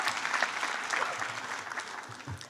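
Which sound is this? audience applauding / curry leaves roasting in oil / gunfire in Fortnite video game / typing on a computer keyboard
audience applauding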